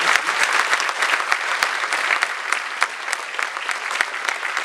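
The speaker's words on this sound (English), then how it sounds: "can I have a huge round of applause?" An audience at a corporate leadership summit breaks into loud, sustained applause, a dense steady wash of clapping with sharp individual claps standing out throughout and no speech over it.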